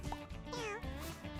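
A cat in a video game meows twice in short succession, clear and close. The calls rise and fall in pitch, and a little game background sits behind them.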